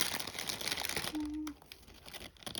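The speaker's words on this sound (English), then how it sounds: "Sorry for the rustling." Paper and craft materials such as lace crinkle and rustle close by while a postcard is made, soft irregular crumpling with one brief tonal squeak partway through.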